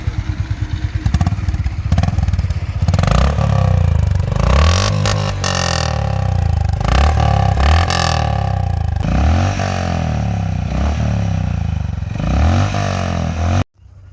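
A Honda H'ness CB350 motorcycle engine revs repeatedly, loud and close, its exhaust rising and falling in throaty bursts before cutting off abruptly at the end.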